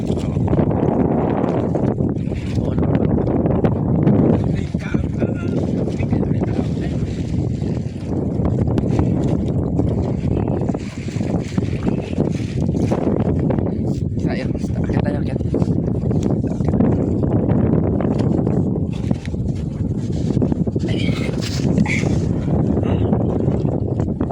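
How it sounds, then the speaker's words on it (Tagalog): Strong wind buffets the microphone in rough gusts, a constant low rumble with intermittent voices underneath. "Ayan, talaga medyo may hangin."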